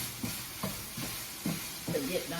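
Seasoned ground beef sizzles and is stirred in a pan, with soft scraping strokes recurring every half second or so over a low, steady fry, close and fairly quiet.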